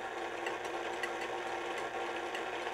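A stand mixer whips egg whites with lemon juice at low speed, a steady close whirring hum with a faint rhythmic mechanical chatter and no voices.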